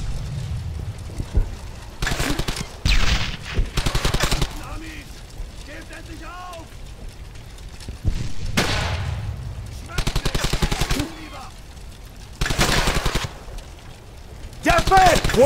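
Rapid bursts of rifle and machine-gun fire in the World War II shooter Brothers in Arms: Hell's Highway, loud staccato volleys broken by pauses, mixed with shouted commands from soldiers.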